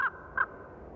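A raven gives two short, harsh caws about a third of a second apart, clear and moderately close against a quiet background.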